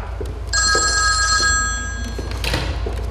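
An old telephone bell rings in a comedy sketch, a bright metallic trill lasting a couple of seconds over a low background rumble, then stops abruptly.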